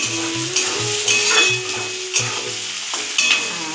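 Whole brinjal, green chillies and onion frying in a pan on a home stove, a steady close sizzle broken by several sharp scrapes and clinks as a spoon stirs, with no talking.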